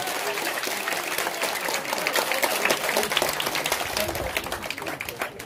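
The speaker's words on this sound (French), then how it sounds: "On l'applaudit très fort!" An audience applauds loudly with dense, continuous clapping, mixed with crowd voices and cheering throughout.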